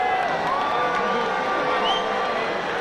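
Arena crowd cheering and shouting at a boxing match between Johnny Tapia and Paulie Ayala, a steady dense roar of many voices with whistles and calls rising above it throughout.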